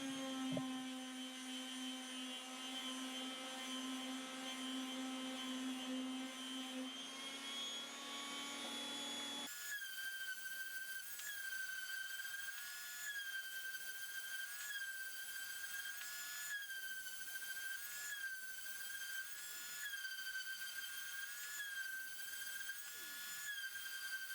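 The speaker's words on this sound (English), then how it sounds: "Every woodworker's favorite thing in the whole world to do is sand everything." A high-pitched power sander whines steadily on wood, its pitch wavering as it works, with a lower motor hum early on; no one speaks.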